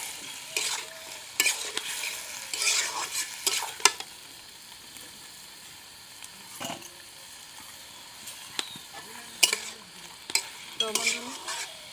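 Chicken with ginger-garlic paste frying in a pan, a soft continuous sizzle under intermittent scraping strokes of a spatula stirring, close by, with quiet gaps between bursts of stirring.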